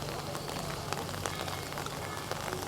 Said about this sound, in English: even though it's raining pretty heavily today, it's still burning brightly